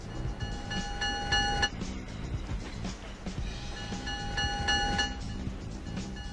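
A moving subway train in the Getting Up video game: steady rumbling rail noise with a sustained tonal whine, continuous and fairly loud throughout, no talk.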